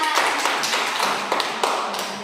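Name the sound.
class applauding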